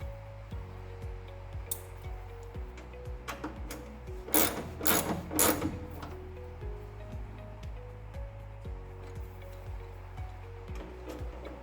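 Parts being tightened by hand while working on a heat shield, quiet clicking and ratcheting with a few sharper metallic bursts in the middle, alone without talk.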